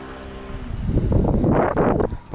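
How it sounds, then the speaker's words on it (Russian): A sudden gust of wind roars into the microphone in Alanya, Turkey, swelling over a second and then fading, loud and close. "Порыв ветра."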